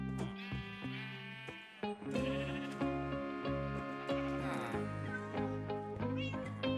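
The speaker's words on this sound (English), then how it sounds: "the sheep is going to get in this boat" Sheep bleat in Minecraft over continuous game music, with several short bleats standing out clearly near the front of the mix.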